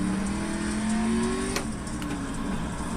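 A race car in the iRacing sim on a slick track: the engine revs steadily upward, then a quick gear shift around the middle drops the pitch before it climbs again, loud and continuous with no talking.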